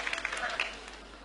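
Brief burst of audience applause at a televised Ramadan debate competition in Pakistan, a close, dense patter of clapping that fades slightly as it continues.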